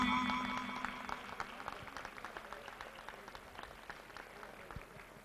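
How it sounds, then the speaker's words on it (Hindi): Hall audience at a community awards event gives a round of applause, the clapping strongest at the start with a tone fading behind it, then thinning to scattered, quieter claps. "जोरदार तालियां।"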